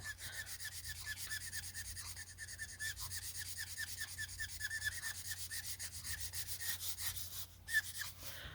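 Copic alcohol markers stroked over paper while blending two colours where they meet, giving a close, steady rubbing and scratching with quick repeated strokes throughout and no talking.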